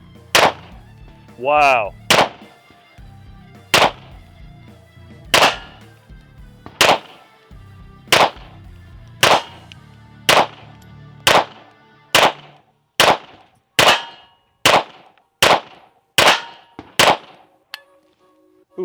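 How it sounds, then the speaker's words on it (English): A Laugo Alien pistol firing at a target, around fifteen sharp, loud gunshots spaced a second or so apart with ringing steel-target pings, and one short exclamation from a voice between shots. "So let's check it out and see how this bad boy performs. First shots, I'm gonna go for that head box."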